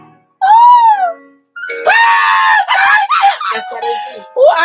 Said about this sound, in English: The woman screaming like that, baby just crying.